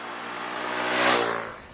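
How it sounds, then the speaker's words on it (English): A Bajaj Dominar 250 motorcycle's engine and exhaust give a deep, raspy note that swells to a louder peak mid-way and then eases off, heard close and steady with no talking. "The exhaust sings a deep and raspy note once you get going, and that makes the performance all the more enjoyable."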